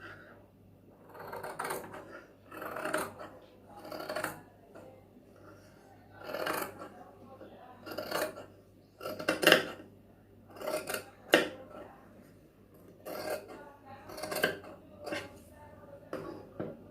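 Repeated snips of scissors trimming excess fabric lining around a border sleeve, short crisp cuts arriving in an uneven rhythm every second or two at close range, with a low steady hum underneath.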